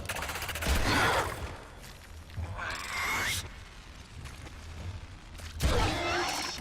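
Gunfire from the sci-fi shooter game Warframe, with several loud, dense bursts of shots spread across the clip and mechanical clatter between them.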